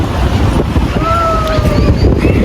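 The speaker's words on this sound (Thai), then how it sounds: "ลมมันแรงมากแลทะเลคือแบบสวยมากนะคะ" Strong wind blasts across the microphone at Cha-am beach in Thailand, a loud, constant roaring rush mixed with the wash of sea waves, with faint tonal whistles briefly rising above it.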